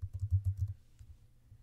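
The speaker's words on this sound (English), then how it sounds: "I'm going to type out happy birthday." Keys clack in a quick burst of typing on a computer keyboard while entering text in Photoshop, about six close taps in a row, then a quieter trailing tap or two.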